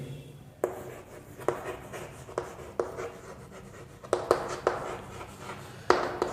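Chalk or pen writing on a board during a chemistry lesson on galvanic cells, with a series of scratchy strokes and sharp taps that come in irregular clusters, heard close and moderately quiet, with no talking.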